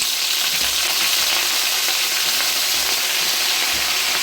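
Gongura leaves frying in hot oil for chutney, giving a loud, steady, close-up sizzle that fills the whole stretch without pause and without any voices.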